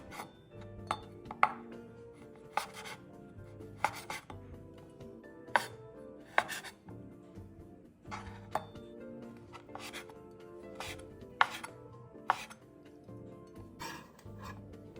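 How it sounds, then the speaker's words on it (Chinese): A knife chops a skinned Chinese sausage into strips and then small dice on a board, making close, sharp, irregular chops with brief pauses between bursts. "接着切成细条，再切成颗粒状。"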